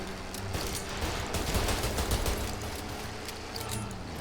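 Automatic gunfire in the Mafia video game, a faint, steady rattle of rapid shots that continues throughout without a pause and sits at a low level with no voices.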